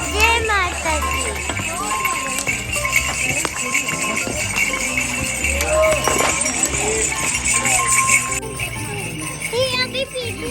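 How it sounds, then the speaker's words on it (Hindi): A horse clip-clops along the busy pilgrimage trail to Vaishno Devi, its hooves tapping under constant chatter from adults and children nearby. "घोड़ा चलो घोड़ा"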